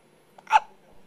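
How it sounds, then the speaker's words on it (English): A baby gives a single short hiccup, close and fairly soft, with near silence around it. "Let's go see if we can get rid of the hiccups so you can eat."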